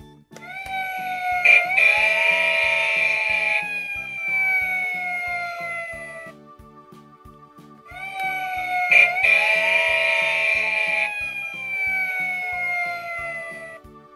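An electronic toy fire engine siren wails twice in a repeating cycle, shrill and bright, over a tinny jingling tune, with a short quiet gap between rounds.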